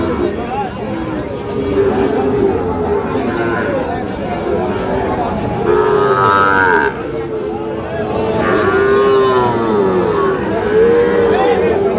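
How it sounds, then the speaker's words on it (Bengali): Sahiwal calves at the Ambari cattle market give repeated long moos, some close and loud, amid a busy crowd with voices talking throughout. "সাইওয়াল জাতের বাছুর গরুগুলোকে।"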